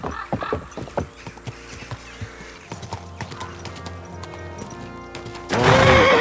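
Horse hooves clip-clop in an irregular trot in Kingdom Come: Deliverance 2, close and crisp, with creaking and rattling, ending in a louder burst of noise and a whinny.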